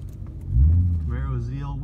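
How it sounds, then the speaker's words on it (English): A Chevrolet Camaro ZL1 engine swells into a loud, deep rumble about halfway through the short clip, with a rising tone suggesting revving, while a person speaks briefly. "Camaro ZL1. Here we go."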